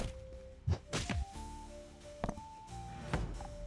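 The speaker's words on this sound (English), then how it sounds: "I'm gonna try to destroy this chest in front of me" A chest being destroyed in the video game Master of Piece, with several dull, hollow thunks and knocks in uneven bursts and light tonal game sounds between them.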